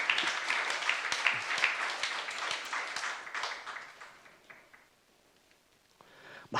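Church youth congregation clapping in unison during a Korean sermon, dense and fairly loud at first, then thinning and fading toward the end before a short final burst.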